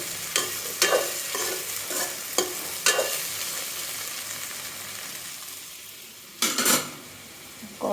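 Vegetables frying lightly in oil after a tempering of panch phoron, with soft sizzling under repeated stirring and a few clinks of a utensil against the pan, heard close with no talking.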